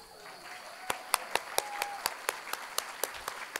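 Audience applause at an arts awards ceremony, steady rhythmic clapping that sharpens into distinct, evenly spaced claps, moderately distant.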